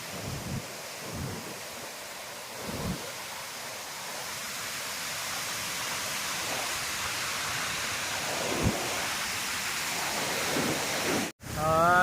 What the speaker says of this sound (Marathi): बंधाराच्या लेफ्ट साईडला इकडं धबधबा आहे